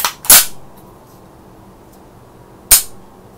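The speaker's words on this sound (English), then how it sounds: "let's test the trigger though." Two sharp, loud mechanical clacks from dry trigger pulls on an airsoft gas blowback MPX, spaced a couple of seconds apart, each snapping crisply and close up, with near silence between them.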